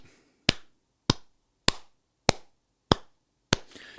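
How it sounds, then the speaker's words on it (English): Six slow, deliberate hand claps ring out one by one at steady, evenly spaced intervals, each sharp and close with near silence between them. "all I can do is slow clap"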